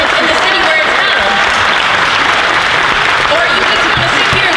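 Audience clapping at a protest during a Netroots Nation conference, dense steady applause filling the whole stretch, loud and close, with a voice speaking over it.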